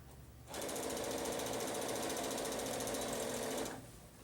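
A sewing machine stitches fabric in one steady, rapid mechanical rattle lasting about three seconds, starting and stopping cleanly against quiet room tone.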